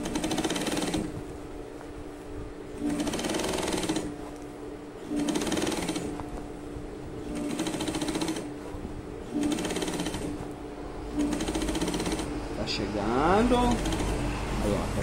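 Sewing machine stitching a trouser leg in bursts of steady rapid whirring, each lasting one to two seconds with short pauses between, close and fairly loud, with a person speaking now and then and a brief rattle near the end.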